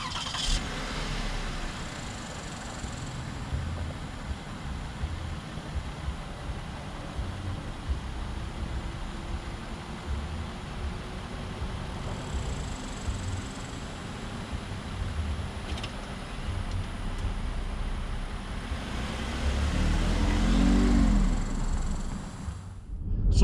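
A 2021 Lexus RX F-Sport Black Line starts up and drives off, its engine a low steady hum under broad road and wind noise that swells briefly near the end.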